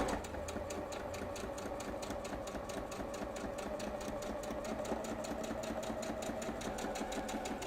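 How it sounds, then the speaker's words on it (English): A sewing machine runs at an even, rapid pace as it stitches fabric pieces together, its needle giving a steady mechanical chatter close to the listener. "you're just going to sew these pieces together with a 1/4 inch seam allowance"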